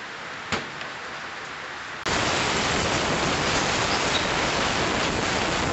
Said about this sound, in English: it's raining pretty good, folks.